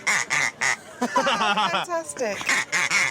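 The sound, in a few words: duck call lure blown, imitating duck quacks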